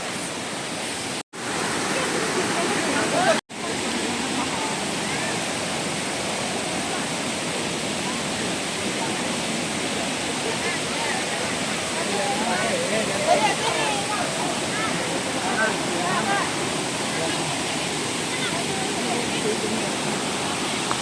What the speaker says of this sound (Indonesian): Wah, ini air terjun Kapas Biru.